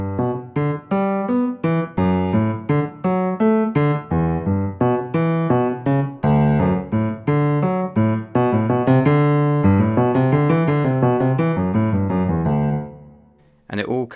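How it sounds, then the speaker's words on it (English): Piano playing the left-hand bass part from Bach's Goldberg Variations, a busy, continuous passage with dense low notes and moving lines, bright and steady, ending with an abrupt cutoff. "Bach writes a separate bass part for the left hand"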